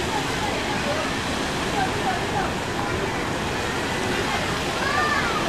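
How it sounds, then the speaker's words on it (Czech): Fountains spray water in a public square in Kuala Lumpur, a steady broadband rush of falling and splashing water held at an even level throughout, with faint chirps or voices drifting over it. "takhle tady mají všude fontány, stříká jim voda"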